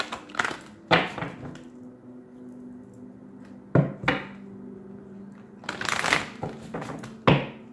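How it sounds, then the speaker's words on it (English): Bursts of tarot cards being riffled and shuffled, a handful of crisp flurries separated by short pauses over a faint steady hum. "Two more shuffles."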